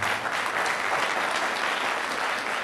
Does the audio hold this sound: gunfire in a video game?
no